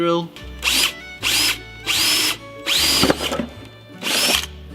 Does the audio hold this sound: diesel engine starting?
no